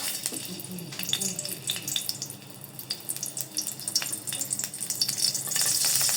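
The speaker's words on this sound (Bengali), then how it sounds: "রসুনের কোয়াটা একটু কিছুক্ষণ ভেজে নেব।" Garlic cloves fry in a little oil in a wok, giving a steady sizzle with scattered crackles and clinks that swell louder toward the end, close and without speech.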